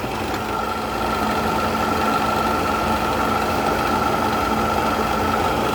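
An LG 10,000 BTU window air conditioner runs with a steady, loud, even hum and whirring blower noise, close by and constant throughout.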